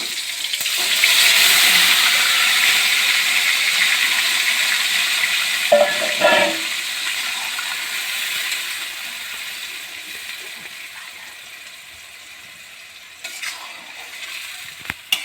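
Mutton tipped into a hot pan of softened tomatoes hits with a loud rush of sizzling that slowly fades, broken by a couple of knocks of a spoon stirring midway and scraping clatter near the end.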